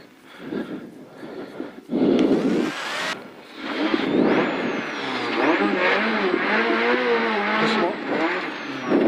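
A rally car engine on a French rally stage restarts after stalling and revs in rising and falling bursts, loud and close from inside the car, with brief speech around it.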